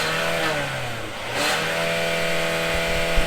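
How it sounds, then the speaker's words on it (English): A Hyundai Tucson engine revs up close, climbing in pitch, easing off briefly and then rising again, a loud mechanical whine with no talking over it. "Let's start with some revs."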